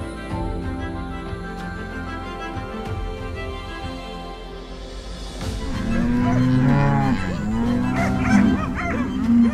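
Cattle moo on Buck Island Ranch in Florida, with several loud, drawn-out calls coming close together over a steady outdoor hum in the second half.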